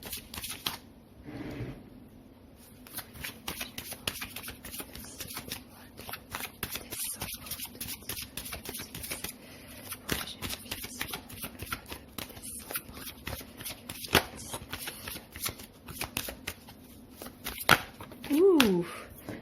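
Lenormand oracle cards being shuffled at close range, a steady run of soft flicking and riffling that continues for most of the stretch, with a brief voice near the start and faint rustling at the end.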